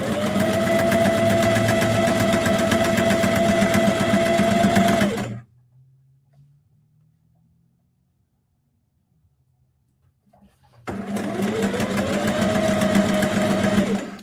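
Sewing machine stitching a fabric book cover with a zipper, a steady high whirring run of about five seconds, a quiet pause with faint handling, then the motor starting up again for backstitching.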